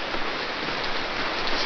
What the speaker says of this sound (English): the rain hammering like that on the window made it good to be in there